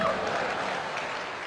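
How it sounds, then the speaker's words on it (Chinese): Steady audience applause fills a crosstalk (xiangsheng) comedy stage performance by Li Jindou and Li Jianhua, a dense even patter of clapping heard at moderate distance that fades slightly across a second and a half. "谢谢您的掌声"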